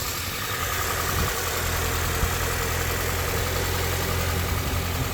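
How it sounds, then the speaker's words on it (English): A classic Mini barn find, just restarted after sitting with a new battery fitted, idles steadily close up, a continuous even engine drone with no talk over it. "Engine sounds sweet as a nut."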